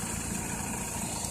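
A 2004 Mazda RX-8 engine idles smoothly and evenly, a steady close hum with no roughness or misfire, heard alone without any talking.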